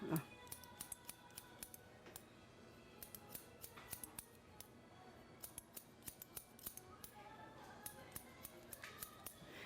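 Long barber scissors trim hair in a barbershop during a side-part undercut, giving a steady run of quick, crisp snips close to the microphone while an instructor talks over them.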